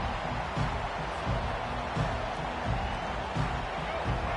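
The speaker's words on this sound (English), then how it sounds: "This crowd bringing the energy and noise early." A loud, steady roar from a big stadium crowd at an American football game, a dense wash of noise that swells slightly now and then.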